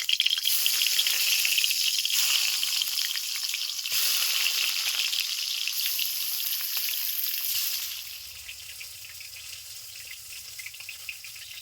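Hot oil crackles and sizzles steadily as fish fries in a pan, bright and close, then the sizzle softens as a low rumble comes in.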